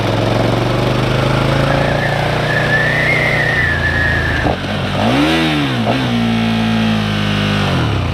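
A motorcycle engine, heard loud and continuous, revving up and climbing through the gears, with pitch rises and drops at each shift, while it is ridden during emergency stop practice.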